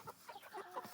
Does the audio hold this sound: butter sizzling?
no